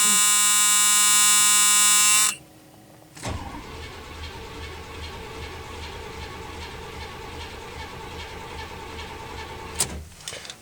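A 1978 Pontiac Bonneville's warning buzzer sounds loud and steady for about two seconds during a cold start, then stops. A low idling engine rumble follows, with a sharp click near the end.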